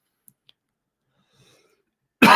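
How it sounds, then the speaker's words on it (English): A single abrupt cough bursts out at the very end after near silence, close and loud. "Do apologise about the cough."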